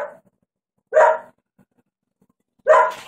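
A dog barks twice in single sharp, fairly loud woofs, spaced well apart with quiet between them and no talking.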